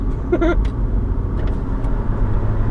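A Nissan GT-R is driven with a low, steady engine rumble and road noise heard from inside the car, with a few faint clicks and a brief squeak early on.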